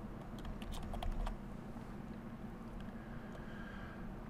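Quick keystrokes clatter on a computer keyboard in a short, close burst, then fade to a low steady hum while someone sets up files and folders in ControlMyNikon 5 software.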